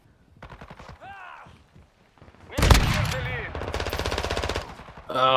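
Bursts of automatic gunfire in the Call of Duty Modern Warfare 2 video game rattle loudly in rapid strings, mixed with game sounds and players talking over the shooting.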